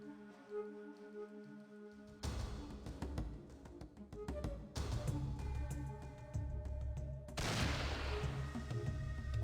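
Rifle gunfire in the game Fallout 2, a few loud sharp bursts of shots breaking over quieter background ambience, with dense rattling reports toward the end.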